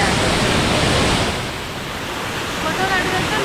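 A roaring waterfall heard up close as a dense, continuous rush of water, loud and steady, dipping only slightly before swelling again.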